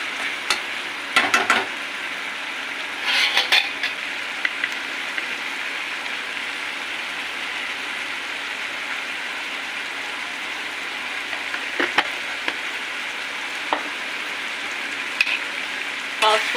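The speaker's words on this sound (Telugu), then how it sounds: "టమాటాలు కొద్దిగా మగ్గుతున్నాయి." Tomatoes cooking with turmeric in a pan give off a steady, fairly loud sizzle, with several sharp clinks and scrapes of stirring scattered through it and no voice over the top.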